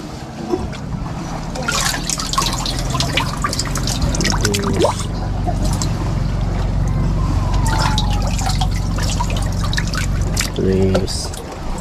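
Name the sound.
water poured into fish container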